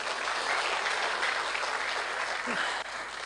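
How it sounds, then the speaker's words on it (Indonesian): Church congregation applauding steadily for about three seconds, a dense even wash of clapping that cuts off near the end. "Tepuk tangan dulu dong."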